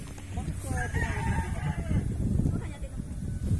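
A rooster crows nearby in Zambales, Philippines, its rising, strained call cutting over people talking in Filipino and low background chatter.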